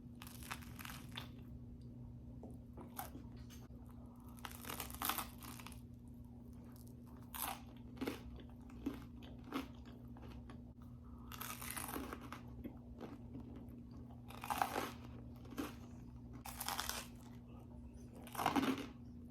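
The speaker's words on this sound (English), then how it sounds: "Listen to this crunch." Homemade pizza crust crunches in a series of close, sharp bites and chews, separate bursts spaced irregularly over a faint steady hum.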